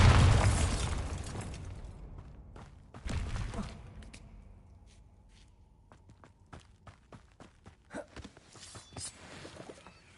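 A Bombarda spell blast in Hogwarts Legacy bursts out loud and booming at the start, a second heavy blast follows about three seconds later, then quieter footsteps and small pops trail off.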